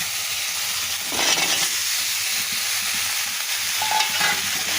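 Taro pieces go into a pan where shrimp is already frying. A dense, continuous sizzle swells briefly and is joined by clattering stirring, with no voices.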